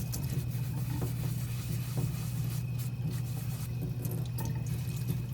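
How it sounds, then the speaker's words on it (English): Water runs steadily from a tap while a clay slab with carved letters is sponged to lift away color, a constant close rushing flow with faint scattered splashes and no talk. "water can run a little bit while you're working."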